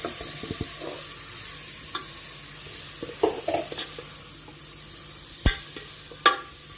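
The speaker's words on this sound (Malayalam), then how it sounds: "ഇനി നമുക്ക് ബീഫ് ഇട്ട് കൊടുക്കാം" Beef is added to a pan and stirred as it fries with softened aromatics, giving a soft steady sizzle broken by occasional scraping clicks and a couple of louder knocks of the spoon against the pan.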